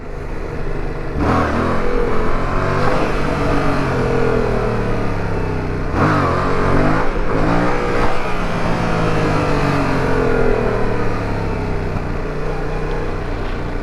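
A Yamaha MT-07 motorcycle engine runs steadily while riding, loud and close throughout, with its pitch rising and falling through several gear changes and wind roar layered over the exhaust.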